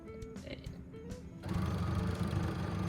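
A home sewing machine stitches denim shorts, starting with short stop-start bursts and then settling into a loud continuous mechanical whir.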